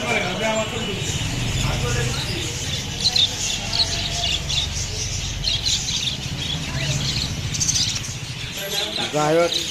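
Caged budgerigars and parrots in a pet shop chirp and tweet in scattered bursts under someone speaking, with shop bustle in the background.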